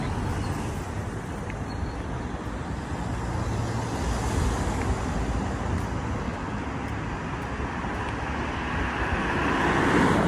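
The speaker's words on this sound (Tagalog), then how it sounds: "Dito na side, panay sa sasakyan." Steady road traffic on a city street at night, with cars passing close by in a continuous wash of engine and tire noise that swells slightly toward the end.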